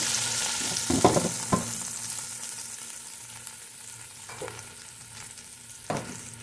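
A small amount of ginger sautés in a hot pan, giving a steady close sizzle with a few sharp scrapes and taps of stirring, and no speech.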